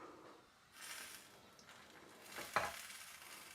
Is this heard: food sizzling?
yes